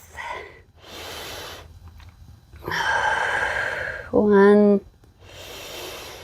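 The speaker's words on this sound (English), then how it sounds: "Let's take a few rounds of breath." Deep, audible breaths drawn in and pushed out while holding a high plank in a yoga-inspired calisthenics workout, a few slow rounds near the microphone, with a short spoken word partway through.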